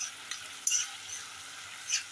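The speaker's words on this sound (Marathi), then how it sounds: "टोमॅटो 1-2 मिनिटं परतायचा" Finely chopped tomato sautés in a pan with a soft continuous sizzle, broken by a few light spatula stirs and scrapes against the metal.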